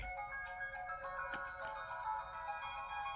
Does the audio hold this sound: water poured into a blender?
no